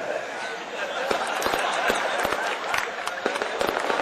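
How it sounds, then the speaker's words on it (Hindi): Firecrackers going off repeatedly in sharp, irregular cracks and pops over a steady crowd-like din, fairly loud throughout, during a celebration in India. "देखिए पटाखे छूट रहे हैं।"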